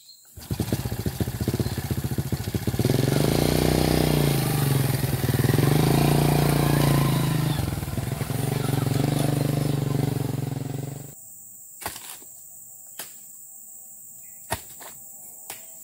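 A motorcycle engine runs loudly and steadily while being ridden through an oil palm plantation during harvesting of long-stalked bunches, then cuts off abruptly, leaving a few faint clicks and knocks.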